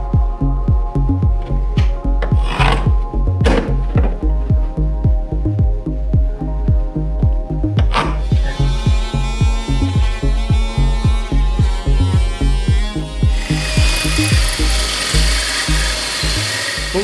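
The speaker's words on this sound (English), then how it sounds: "What we're doing right now is we're just drilling through the 2x4s and fitting in the conduit" A power drill bores through wooden 2x4 studs to fit electrical conduit, producing a loud, steady, rhythmic throbbing hum with fast repeating pulses that shift in tone partway through.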